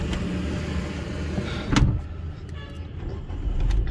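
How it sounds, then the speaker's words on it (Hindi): A FAW V2 hatchback's engine cranks and catches in a brief loud burst, then settles into a steady low idle, heard close from inside the car. "अच्छा गाड़ी स्टार्ट की है।"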